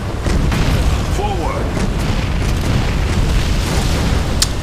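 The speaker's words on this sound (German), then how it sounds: "Dass die Gebäude irgendwie so pumm machen," Explosions of buildings in Command & Conquer Generals Zero Hour, a continuous rumbling roar of booms and blasts lasting throughout, loud and dense with a sharp crack near the end.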